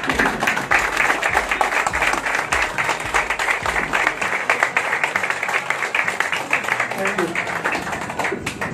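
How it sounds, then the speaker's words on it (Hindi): A seated audience at a senior members' meet rises from chairs and applauds loudly, a dense, steady wash of clapping that fills the whole stretch, with a few voices underneath. "उठ करके एक बार चेयर से खड़े हो जाइए और जोरदार तालियों से"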